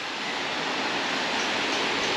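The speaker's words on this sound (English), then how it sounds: "Water flowing through the mill" Water rushes through an old mill at Bosson Quay, a steady, dense hiss of flowing water with no breaks, heard close and fairly loud with nothing else over it.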